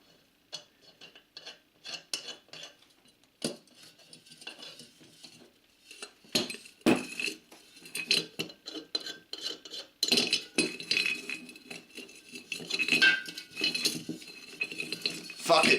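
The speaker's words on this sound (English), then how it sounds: "Put on another washer and another 2 nuts." Washers and hex nuts go onto a bolt in close, repeated metallic clinks and scrapes, irregular and busy, some louder and sharper, with brief rasping handling noise between.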